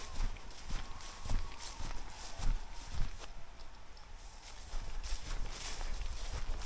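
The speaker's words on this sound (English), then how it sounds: "Cows." Cows moving through a large nearby field in rural Galloway, Scotland, heard as a loose series of heavy, uneven thuds and steps under steady outdoor background noise.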